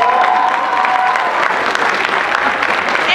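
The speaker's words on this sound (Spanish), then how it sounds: "Fuerte el aplauso, por favor." Loud, sustained audience applause fills a school Christmas festival hall, dense clapping with a few faint voices mixed in, steady throughout.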